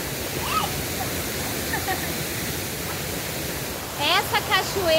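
A waterfall pours into a river with a steady, dense rushing roar throughout; voices briefly chatter over it near the end.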